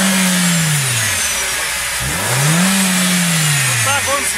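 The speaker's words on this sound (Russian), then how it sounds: "но это не остановит нас послушать мотор" A LADA X-Ray Cross engine with a CVT running under its open hood, a steady close mechanical hum that rises and falls with a couple of light revs, recorded outdoors up close.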